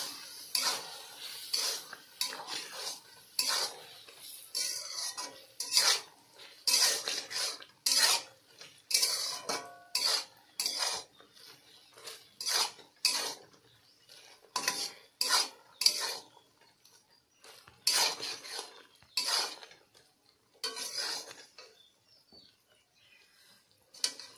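A spoon scrapes and clinks against a pan as fried jujubes are stirred with jaggery for a sour jujube pickle, in quick close bursts with brief pauses and no talking.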